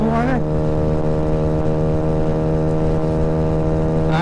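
Honda Ruckus scooter engine on the road with 5.5 gram variator sliders: a close, steady buzzing drone held at high revs, briefly rising in pitch at the start and again at the end, with light wind noise and no talk.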